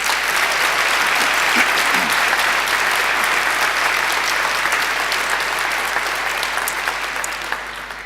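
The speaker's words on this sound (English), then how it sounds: "I think she deserves another great round of applause." A graduation ceremony audience gives a sustained round of loud, dense applause that stays steady and tapers slightly at the end.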